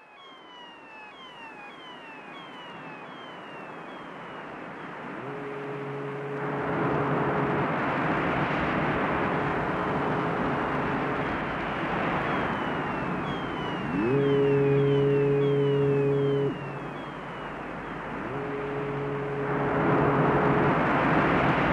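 An electronic seascape made on EMS synthesizer equipment, a loud swelling wash of synthetic surf-like noise rising and falling, overlaid with sliding tonal sweeps and steady held chords that come and go, continuous and without talking.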